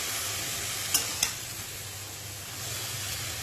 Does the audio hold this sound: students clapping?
no